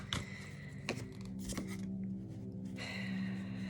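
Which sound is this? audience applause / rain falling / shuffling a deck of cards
shuffling a deck of cards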